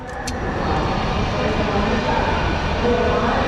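Continuous low rumble of a Renfe AVE high-speed train in motion from Madrid to Barcelona, with a steady rushing hiss, a couple of brief high clicks near the start.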